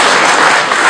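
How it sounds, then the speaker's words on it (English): An audience applauding at a speaking event, a dense, loud burst of many hands clapping together that fills the whole moment without pause. "Give him a round of applause"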